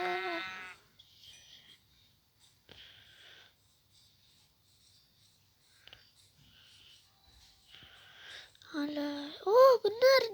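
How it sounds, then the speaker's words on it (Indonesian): Sheep in a survival video game bleat twice near the end, short wavering cries after mostly quiet stretches with soft clicks and a brief voice at the start. "Oh, di situ juga ada domba."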